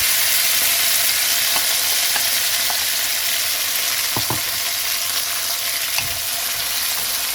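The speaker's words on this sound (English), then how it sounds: "I will now add 2 tomatoes that are finely chopped." Chopped tomatoes, green chilies and curry leaves fry in a pan for a fasting-style tomato chutney, giving a steady, loud sizzle with faint scrapes of stirring and no talk.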